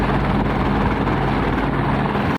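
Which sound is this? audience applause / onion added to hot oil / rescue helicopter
rescue helicopter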